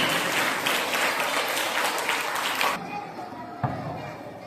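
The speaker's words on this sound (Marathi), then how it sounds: "सगळ्यांनी टाळ्या वाजवायच्या आणि शांत बसायचं." Children clapping at a school annual prize distribution ceremony, a dense burst of applause for nearly three seconds that then stops abruptly, leaving quieter room sound and one sharp knock.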